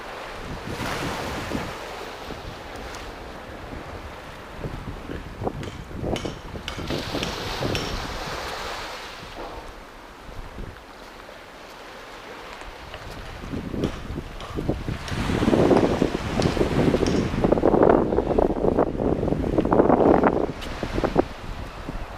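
At Swanage beach on a windy December day, waves wash ashore while wind buffets the microphone with heavy rumbling gusts, dipping quieter in the middle before the surf surges loud again toward the end.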